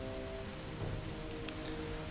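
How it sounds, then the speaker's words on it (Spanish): Steady rain hisses across a night scene in World of Warcraft Classic, a constant wash of falling drops with a faint tonal hum beneath and no voices. "Pues no, está lluvioso, eso sí, hay estrellas y lluvia."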